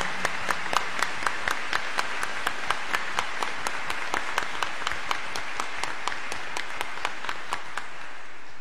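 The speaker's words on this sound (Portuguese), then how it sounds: "E eu gostaria de uma forte salva de palmas para todos nós e ao Padre Tito também." A church congregation at a Catholic Mass gives sustained applause, dense clapping filling the room steadily for several seconds with no talk over it.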